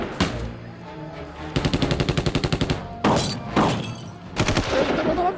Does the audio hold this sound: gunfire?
yes